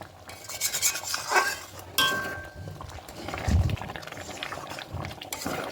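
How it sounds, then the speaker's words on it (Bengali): Moong dal with chicken and green chillies being stirred in a simmering pot, soft scraping and rubbing strokes of a spoon with a brief low thud, close and moderately loud, without voices. "এই অবস্থায় চার পাঁচটা কাঁচা লঙ্কা দিয়ে দেবো ভালো করে একটু নেড়ে নেবো"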